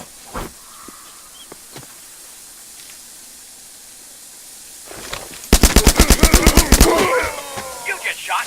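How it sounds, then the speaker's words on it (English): Gunfire in the video game The Culling: a rapid burst of about a dozen loud, evenly spaced shots, followed by a few scattered echoing cracks over quiet ambient noise. "You just shot an opponent with a gun."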